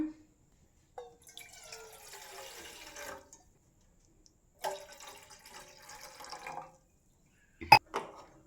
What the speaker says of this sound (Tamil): பாதி அளவு வந்து தண்ணி சேர்த்துக்கலாம்